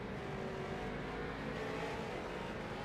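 A damaged race car pulls away after hitting the pit wall at Nashville Fairgrounds, a steady engine drone held at moderate distance, with no talking.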